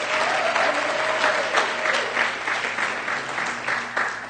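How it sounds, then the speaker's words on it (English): Enthusiastic applause from a church audience, a dense wash of clapping that holds steady for several seconds with a few individual claps standing out. "let's give him a round of applause"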